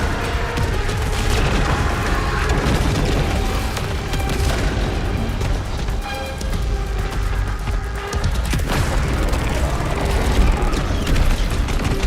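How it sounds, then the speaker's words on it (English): Bombs dropping and exploding in the game Saros, a dense, continuous barrage of heavy booms and rumbling crashes that stays loud throughout with no pauses. "Bombs. See the bombs dropping."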